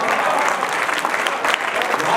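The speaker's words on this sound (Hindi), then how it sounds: "मैं चाहूंगा कि तालियां जरा बजती रहें" Sustained applause from an audience at a Hindi poetry recital, steady dense clapping throughout with no break.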